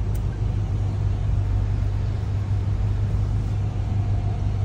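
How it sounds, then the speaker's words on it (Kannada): A Toyota Fortuner taxi in Thailand gives a steady, low engine drone and road rumble from inside the cabin, constant and even throughout with no talking. "ಈಗೆಲ್ಲ ಎತ್ಕೊಂಡು ಫಾರ್ಚುನರ್ ಗಾಡಿ ಬಂದಿದ್ದು ನಮಗೆ ಪಿಕ್ ಮಾಡೋಕ್ಕೆ."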